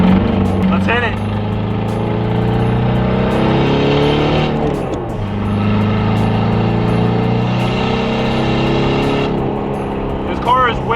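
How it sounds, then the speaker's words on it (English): A Mark 5 TDI diesel car on stock tires drives steadily, its engine droning loudly from inside the cabin with shifting tones and a brief dip midway; a voice talks over the road noise. "I feel like I'm driving a stock Mark 5 TDI"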